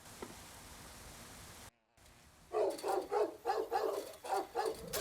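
Dog in The X-Files Resist or Serve video game barking in a rapid series of loud, close yelps after a brief silence, following a quieter stretch of background hiss.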